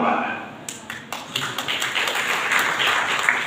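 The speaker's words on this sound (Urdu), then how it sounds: "موقع پر آپ کی جو تالیاں ہیں" An audience at a lecture breaks into applause, scattered claps starting then swelling into steady clapping, with a voice talking underneath.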